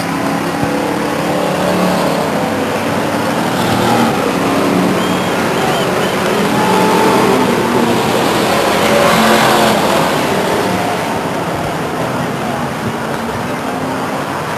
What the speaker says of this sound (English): Here comes your leader by the grandstands to complete lap number 16 now.